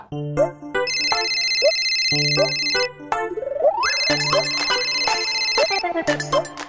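A mobile phone ringtone plays a bright, repeating electronic melody at close range, with sustained high chiming tones over a plucky rhythmic pattern, cycling several times.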